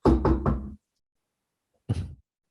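Three quick firm knocks on a door, close and loud, followed after a short silence by a single softer knock.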